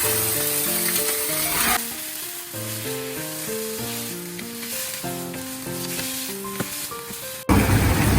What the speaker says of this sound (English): Put in 3 spoons of sugar. Now stir until it caramelizes.